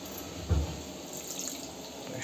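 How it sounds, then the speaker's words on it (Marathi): Tap water runs steadily into a sink while tomatoes are rinsed under it, a close continuous splashing stream with one brief louder thump of contact. "टोमॅटो धुवून घेतले."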